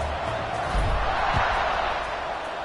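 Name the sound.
stadium crowd before kickoff in College Football 26 video game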